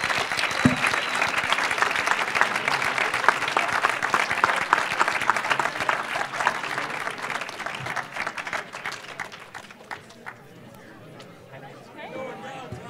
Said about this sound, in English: please help me to give Michael, Ann, and Tanetta a big round of applause.